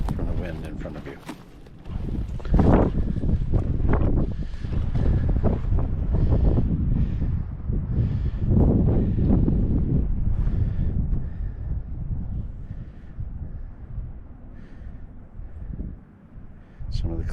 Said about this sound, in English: a tree swaying back and forth in the wind